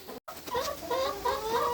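Backyard chickens on a freezing 30-degree day, clucking in quick rising and falling bursts close by, with a short dropout near the start and no talking.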